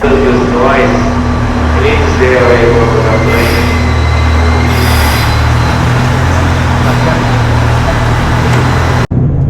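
A steady low rumble and rattle of a moving train carriage in Japan fills the ride, with faint voices murmuring underneath and a brief cutoff near the end.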